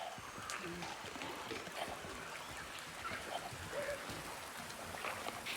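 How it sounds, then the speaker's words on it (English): Rain falls in a video game, a faint, steady patter and hiss of drops with a few soft splashy blips scattered through it. "I don't like the rain. It's making it really hard to see."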